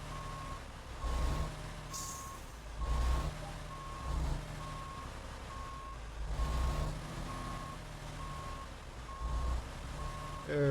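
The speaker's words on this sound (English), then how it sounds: "I'm going to just straighten the truck up and make sure that I'm not going to hit" A truck backs up in the American Truck Simulator game, its reversing alarm sounding a steady run of evenly spaced beeps over the low drone of the truck engine.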